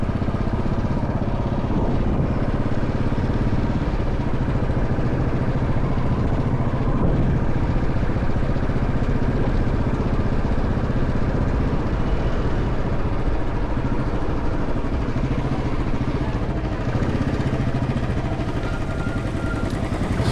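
A motorcycle stopped beside the river at Dolal Ghat idles with a steady, low, even rumble that holds at a constant level for about twenty seconds, with no voices over it.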